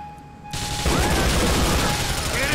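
Shotgun gunfire in GTA The Lost and Damned, a sudden loud blast erupting after a quiet moment and leading into sustained dense shooting with overlapping reports.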